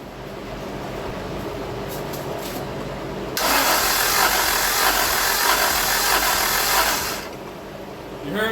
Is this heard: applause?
no